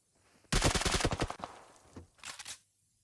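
Gunfire in PUBG Mobile during an esports playoff match: a rapid automatic burst of close, loud shots for about a second and a half, a brief pause, then a second shorter burst.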